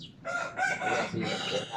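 Rooster crowing nearby in a rural village setting, a loud drawn-out cock-a-doodle-doo call in several rising and falling segments, heard alone.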